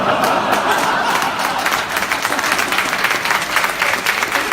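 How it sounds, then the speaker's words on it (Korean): A crowd at a union general strike rally claps in a loud, close, continuous burst with dense overlapping hand claps throughout. "정우성 나오니까 처음으로 박수 치셨어요."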